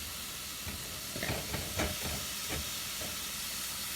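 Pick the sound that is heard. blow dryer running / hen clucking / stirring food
stirring food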